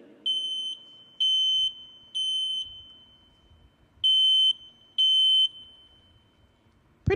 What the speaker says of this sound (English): when the smoke alarm is going off in the home